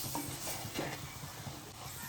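Mussels stirred in a pan with pepper and biryani masala, a soft steady sizzle with faint scraping and a few light clinks, close and alone.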